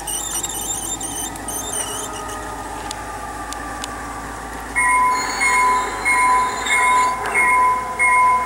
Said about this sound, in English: We'll be seeing that train at the bridge.